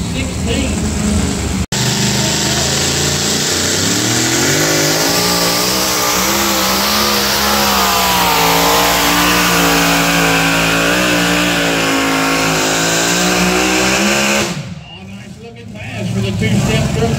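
A two-wheel-drive pulling truck running on alcohol fuel revs hard at close range, its loud engine tone rising and shifting for about fourteen seconds before it cuts off and drops away into quieter background.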